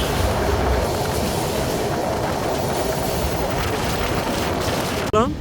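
A train pulls into Padma station after crossing the Padma Bridge, with a steady loud rumble of wheels and carriages throughout and a brief squeal of the brakes at the very end.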